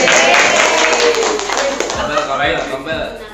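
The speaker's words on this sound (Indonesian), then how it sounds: "Tepuk tangan dulu dong" During a school mentoring session, a group in a room claps their hands, starting loud and then thinning into scattered claps while voices talk over them.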